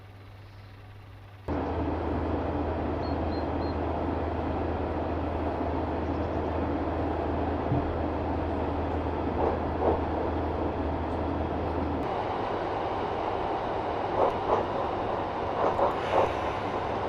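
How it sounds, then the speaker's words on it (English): Class 142 Pacer diesel multiple unit in Train Simulator, a steady low engine drone and rolling rumble as the train slows to a stop, with faint clunks and rattles over the constant hum. "Bring the train to a gentle stop."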